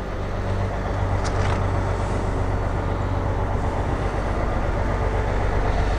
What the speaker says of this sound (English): Right now, bus started real well.